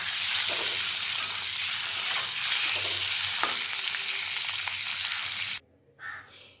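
Pre-boiled eggs fry lightly in hot oil for a cauliflower egg curry, giving a dense, steady sizzle with faint clinks of stirring. The sizzle cuts off abruptly near the end, leaving a brief quiet scrape.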